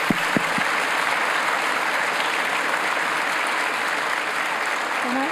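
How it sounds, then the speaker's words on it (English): Audience at a testimonies event applauding a speaker, a steady wash of clapping that holds evenly throughout at moderate level, with a few sharper sounds at the start. "So can we have a big round of applause for Amanda?"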